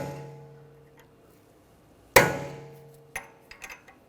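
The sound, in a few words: hammering a punch to peen over a lug nut's edge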